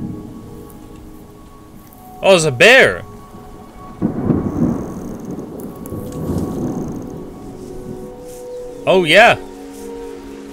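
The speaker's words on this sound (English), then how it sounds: "I hear a storm. Is it gonna like rain and turn everything nice and green?" A storm in the video game Terra Nil: rain and broadband storm noise build midway and continue steadily at moderate level, with a voice speaking briefly near the start and again near the end.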